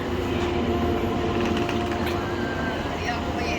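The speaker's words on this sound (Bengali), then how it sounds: "এই হচ্ছে রেল স্টেশন আর এই হচ্ছে আজকে আমাদের ট্রেন" A steady low rumble and hum of a train at a station, continuous throughout, with faint clanks and voices in the background.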